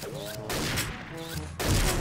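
Booming sniper rifle shots in the video game XSHOT, two or three heavy blasts with trailing echo and electronic game sounds between them, loud and close, with a voice faintly underneath.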